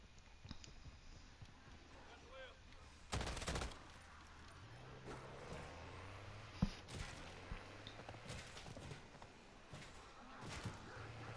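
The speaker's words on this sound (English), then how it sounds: "Oh, it's like an M16, it's burst fire." Burst-fire shots from an M16-like rifle in MW3 Zombies, several short clusters of sharp gunfire spaced a few seconds apart, fairly faint overall amid game noise and people talking.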